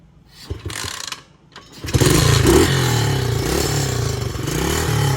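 A cheap off-road motorcycle, kickstarted by hand, sputters briefly and then catches, its engine running loudly and unevenly up close without settling into an idle.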